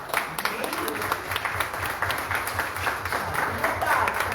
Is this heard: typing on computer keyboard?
no